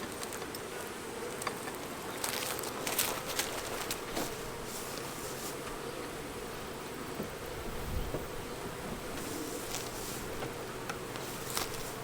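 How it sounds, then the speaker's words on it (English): Honeybees buzzing in a steady, dense drone as a hive frame is shaken, with no voices over it. "what we'll do is we'll come over here and just kind of shake the bees."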